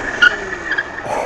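Fat tires of a Cyrusher Kommoda 3.0 e-bike locking up and skidding under hard braking on a path, a short, sharp squeal and scrub heard up close against wind noise.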